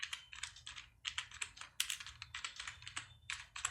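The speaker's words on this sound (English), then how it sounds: "So I'm typing" Close, brisk typing on a computer keyboard, a fast run of light key clicks in irregular bursts with a short pause, quiet and alone.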